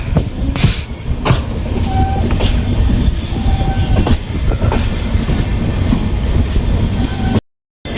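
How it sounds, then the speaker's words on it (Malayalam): A long-distance train on a Kerala to Delhi journey runs on its rails with a loud, close clatter of wheels and sharp rhythmic clicks over the joints, continuing steadily until a brief dropout near the end. "ട്രെയിനിൻ്റെ സൗണ്ട് മാത്രമേ ഉള്ളൂ"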